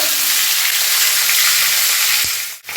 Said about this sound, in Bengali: এবারে উল্টে পাল্টে একবারে ভেজে নেব।